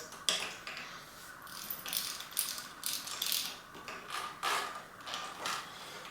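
A RockShox Judy TT bicycle suspension fork part is screwed in by hand, giving a quiet run of ratcheting, gritty thread clicks and scrapes in irregular bursts, close up with no talk.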